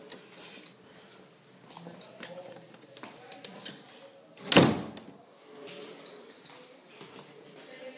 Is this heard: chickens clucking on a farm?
no